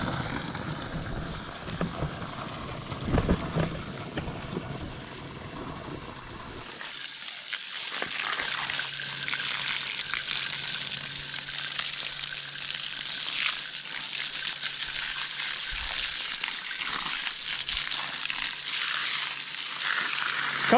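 Reddish, oxidized water runs and gushes continuously at an Alaskan cabin homestead. A broad hissing flow sits fairly close and steady, and it brightens and intensifies partway through.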